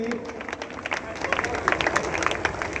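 Audience clapping at a poetry recital at NIT Jalandhar, a dense patter of many hands under crowd murmur, with scattered louder claps and a voice briefly heard over it.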